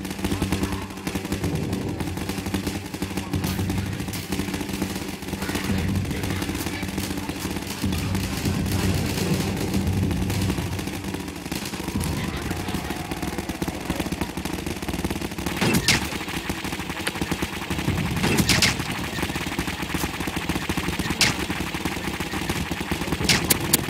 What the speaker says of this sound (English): As he proceeds to shoot her.